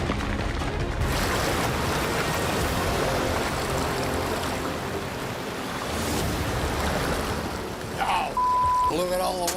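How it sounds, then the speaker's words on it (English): Water gushing out of a gold mine cut after a landslide, a broad continuous rushing roar like surf that stays loud and steady, with a brief beep near the end. "Oh, look at all the water coming out of the cut."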